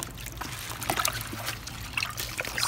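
Water trickling and splashing as harvested farm produce is submerged and washed in a tote, a steady close dribble with small splashes.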